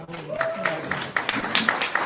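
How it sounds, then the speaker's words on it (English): Poetry slam audience clapping in a series of scattered, uneven bursts mixed with finger snaps, fairly close, with a sustained voice tone and crowd chatter underneath. "You can clap."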